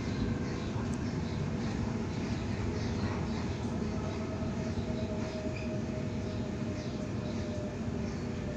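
A steady rumble and rattle of a Sydney Waratah train in motion, heard continuously from inside a carriage with faint clicks and a brief high squeal.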